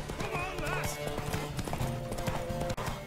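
Horse hooves clip-clopping at a gallop in The Witcher 3 during a race, a steady rhythmic beat with an occasional whinny, set among game music and a player's excited voice.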